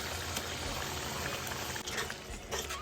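Boiled mushrooms going into a simmering pan of water, a steady bubbling and liquid churn running throughout at moderate level, with a brief soft splash near the middle.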